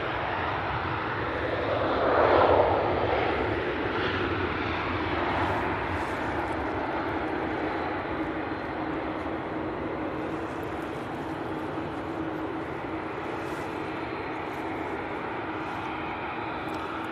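A fixed-wing airliner lands at Manchester Airport, its loud engine roar swelling briefly early on and then holding as a broad, steady rumble with no one speaking.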